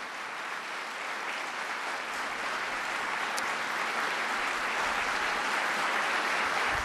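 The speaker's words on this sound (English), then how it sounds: "everybody can give you a big round of applause" Sustained, dense applause from an audience honoring Army re-enlistees at a birthday ceremony in Washington DC, a steady roar of many clapping hands that holds evenly for several seconds.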